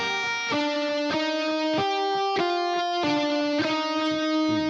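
Electric guitar riff from the worship song We Lift Your Name played at full speed, a clear, bright melodic line of about eight picked notes with steady rhythm, close and alone with no talking.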